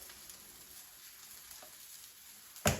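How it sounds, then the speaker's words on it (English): Brussels sprouts sauté in a pan over medium-low heat with a steady, soft sizzle while salt is sprinkled on, closing with a sharper clatter near the end. "So I'm going to sprinkle on the salt"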